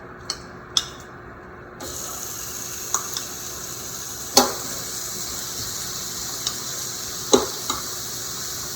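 Food cooking on a grill for a Cobb salad gives a steady sizzle and hiss that starts after a short pause, broken by a few sharp clicks and knocks from handling.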